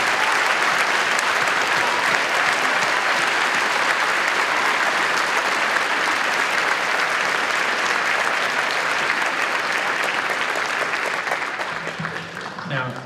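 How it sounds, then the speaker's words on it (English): Sustained applause from a large audience at a junior chorus concert, dense steady clapping for music teachers that holds loud for most of the stretch before gradually thinning and fading. "would you please stand up and everybody give them a round of applause"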